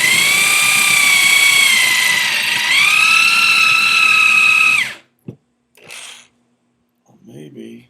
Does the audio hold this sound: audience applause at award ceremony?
no